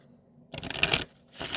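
Angel affirmation cards are shuffled in two quick, close, papery riffles separated by a short pause, with no talking.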